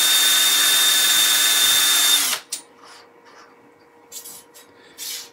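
A cordless drill bores into wood on a lathe in one loud, steady high whine lasting about two seconds, then winds down sharply, followed by quieter scraping and handling noises.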